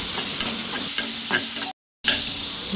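A ginger, garlic, green chili and coriander paste sautéed in hot oil tempering for Goan batata vada, sizzling steadily with a few stirring scrapes and a brief cut in the middle.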